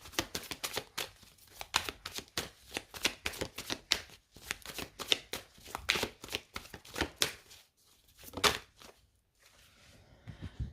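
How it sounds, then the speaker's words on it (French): Tarot cards being laid out and shuffled on a table during a reading, giving a run of quick papery slaps and riffles with short pauses between them, close and fairly loud, with no talk. "on va poser les cartes et après on va prendre une carte conseil"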